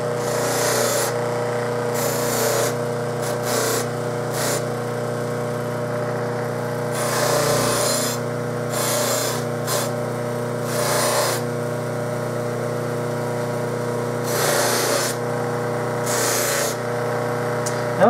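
A buffing wheel polishes the brass inner slide of an Olds bass trombone, a steady motor drone overlaid by repeated bursts of harsh rubbing and spraying noise as the part is pressed to the wheel.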